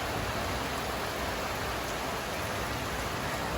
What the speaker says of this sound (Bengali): বাট গাইজ দেখো স্টিল বৃষ্টি পড়তেছে।